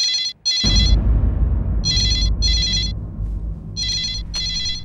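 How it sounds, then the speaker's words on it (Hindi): A telephone rings in repeated double bursts of bright electronic trilling, three pairs spaced across the clip, loud and close over a continuous low room hum. "आपके लिए फोन आया, किसी लड़की का फोन आया"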